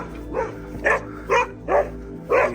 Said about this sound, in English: Don't be alarmed by the dogs, they're on the other side of the fence.